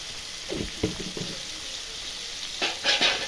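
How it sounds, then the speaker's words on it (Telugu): Brinjal pieces frying in oil with turmeric, ginger and garlic for a brinjal masala, giving a soft sizzle with a few stirring scrapes near the start and a brighter burst of crackling toward the end, no talking. "ఇప్పుడు ఎందుకు వేసిన అంటే మంచిగా ముక్కలు బాగా పడుతుంది, వేగుతుంది నూనెలో"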